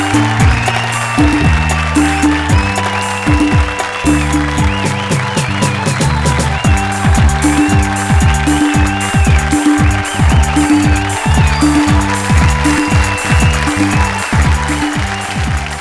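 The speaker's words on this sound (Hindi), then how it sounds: "जोरदार तालियां पंडित विश्वेश्वर शर्मा के लिए।" An audience at a live stage comedy show applauds loudly for Pandit Vishweshwar Sharma, with steady, dense clapping running the whole time over accompanying music.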